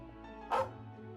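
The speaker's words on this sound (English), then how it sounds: "I suppose we can say hey to the dog before we leave." In Trails of Cold Steel 2, a dog in the game gives a single short bark over a soft, steady background of game music.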